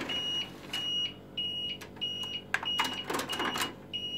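A beeper in a disassembled music center sounds in repeated short, high-pitched electronic beeps at uneven intervals, accompanied by faint handling clicks and rustles nearby.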